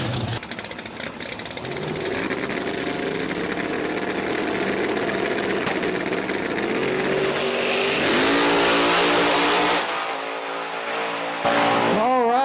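Small-tire class drag racing cars launching side by side at a drag strip, a loud sustained roar of high-revving engines that climbs in pitch and then drops away near the end, with an announcer's voice faintly under the noise.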